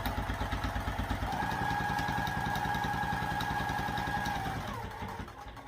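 A sewing machine stitches with a small stitch length around a box seam on a crossbody bag, a fast, even mechanical clatter heard up close that slows and stops near the end.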